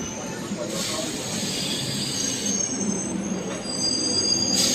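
An Indian railway train pulls in, its wheels squealing in long high metallic whines over a constant rolling rumble and hiss, close by on a busy platform.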